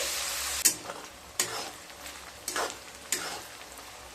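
Onions fry in a pan for a restaurant-style mutton korma, a steady soft sizzle punctuated by four sharp stirring scrapes spaced about a second apart, close and alone without voices.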